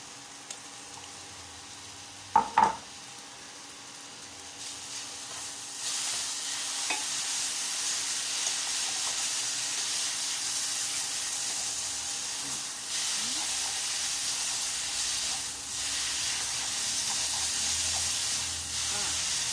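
Pad Thai noodles stir-fry with som tam sauce in a hot pan in temple-fair style. A couple of sharp utensil clanks come early, then a continuous hissing sizzle with faint scraping continues to the end.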